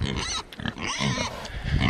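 A mother pig grunts on a pasture, a run of close, loud snorts and guttural grunts that carry on steadily with only brief pauses.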